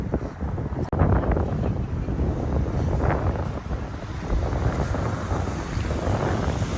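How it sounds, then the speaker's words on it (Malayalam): Strong wind buffets the microphone outdoors near an apartment building in Dubai, a loud, continuous low rumble and roar with a sharp knock early on, no speech. "നല്ല കാറ്റുണ്ട് അല്ലേ"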